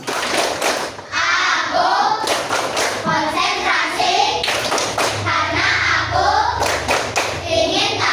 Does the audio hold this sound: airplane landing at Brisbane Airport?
no